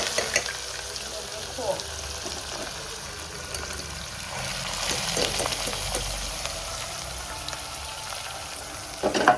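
Dal with turmeric sizzling steadily in a hot pan as it is stirred, a continuous close frying hiss with soft scraping strokes throughout, no talking.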